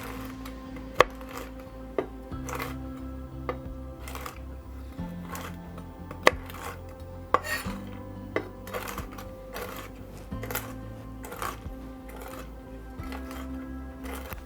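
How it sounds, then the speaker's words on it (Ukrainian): A kitchen knife chops nuts on a board for a citrus panettone, giving a string of sharp, irregular taps and clicks over steady background music. "Нарізаю ножем горішки по величині"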